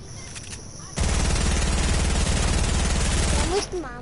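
Sustained rapid automatic gunfire from GTA 5 erupts after a quiet second, a dense loud rattle of shots that runs for about two and a half seconds before cutting off.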